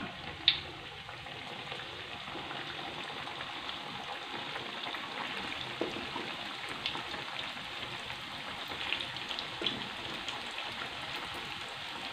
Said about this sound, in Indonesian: Saya akan goreng sampai siap.